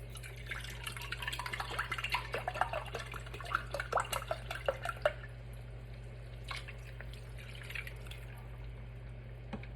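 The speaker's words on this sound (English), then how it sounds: "I'm a little extra, so I'm gonna use chicken broth" Chicken broth poured into a pot while making fideo, a soft trickling, splashing stream for about five seconds, then a few scattered drips, quiet and close over a low steady hum.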